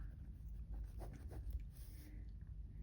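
Pen writing on paper, close and quiet, with soft scratchy strokes in short bursts over a low background hum.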